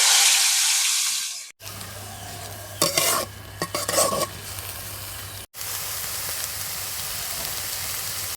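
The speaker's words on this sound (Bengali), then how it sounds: "এবার চিংড়ি মাছগুলো একটু তেলে ভেজে নেবো।" Small shrimp fry in oil with a steady close sizzle, broken by brief stirring clatter in the middle and two short cuts, with no voices.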